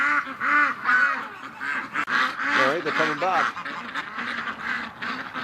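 Muscovy ducks honk and quack repeatedly near an icy, snowy lake, a busy flock calling close by with someone talking over them.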